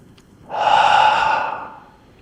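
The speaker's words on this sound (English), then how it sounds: "exhale, inhale, breathing out, breathing in, breathing out." One long, close breath out during tai chi walking practice for seniors, a soft airy rush that swells and then fades over about a second and a half, heard alone.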